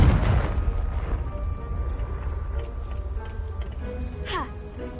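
One loud blasting-spell explosion from Hogwarts Legacy opens the moment with a heavy boom, then decays into rumbling debris and a fading tail, while a player's voice is heard around it.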